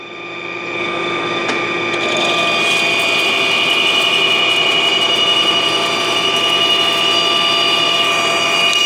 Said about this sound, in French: Et la machine fait vraiment une bonne coupe